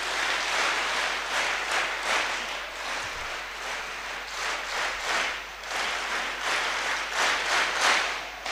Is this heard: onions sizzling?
no